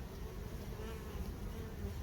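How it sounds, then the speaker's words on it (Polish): Steady dense buzzing of honeybees at a hive entrance as foragers return carrying pollen, a continuous close drone with no breaks. "wpada pszczoła z pyłkiem"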